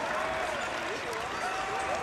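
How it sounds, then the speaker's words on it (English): Basketball fans at a Missouri Class 6 state semifinal between DeSmet and Rockhurst stand and applaud their team, a steady, dense wash of clapping and crowd noise filling the gym, with a commentator talking over it. "And their fans stand and applaud them for a job well done."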